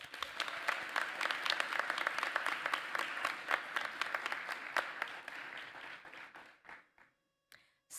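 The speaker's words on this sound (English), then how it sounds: "Students, let's give your families a round of applause." Audience applause at a nurse pinning ceremony honoring graduates' families, a sustained round of clapping from a large crowd that thins out and fades to scattered claps near the end.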